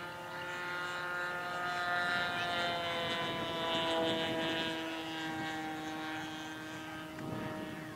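A radio-controlled model airplane at a model aircraft meeting gives off a steady, high engine whine with strong harmonics, holding fairly constant at a moderate distance.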